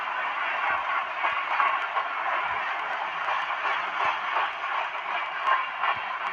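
Steady rolling rumble of a simulated train in a train-simulator game as it runs toward a station, a continuous even wash with faint rhythmic clicks, heard alone.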